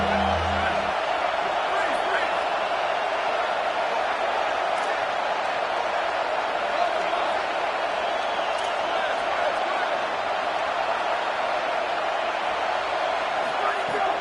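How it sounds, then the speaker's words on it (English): A stadium crowd in a college football video game roars steadily behind the defense on a big third down, a dense sustained wash of cheering that stays loud and even. "Big third down as the crowd gets behind this defense."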